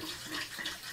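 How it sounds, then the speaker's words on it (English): Water running into a kettle for tea, a steady, soft splashing stream of tap water filling the vessel, close and quiet, with no voices. "we'll boil a kettle full of water."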